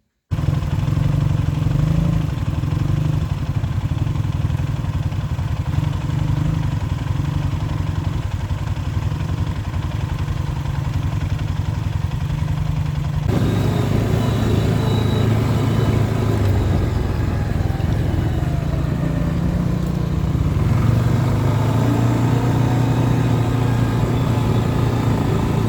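A motorcycle engine runs loudly and continuously with a low, rumbling exhaust drone near at hand, its tone shifting partway through as the revs change.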